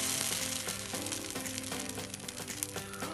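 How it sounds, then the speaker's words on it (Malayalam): Bun dosa batter made from raw rice fries on a hot pan, giving a steady close sizzle with faint crackling and no voices. "നമ്മൾ പാൻ ചൂടായി വന്നിട്ടുണ്ട്. അതിലേക്ക് 2 കയ്യിൽ വെച്ച് കൊടുക്കുക."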